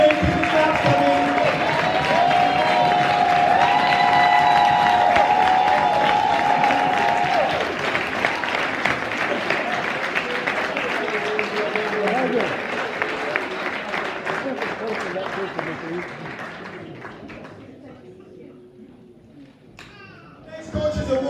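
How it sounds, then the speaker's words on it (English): Audience applause at a Croydon Cougars basketball end-of-season award ceremony, sustained clapping and some cheering that swells and then fades over about twenty seconds, with a voice and music-like tones early on. "Keep the claps coming, keep the claps coming."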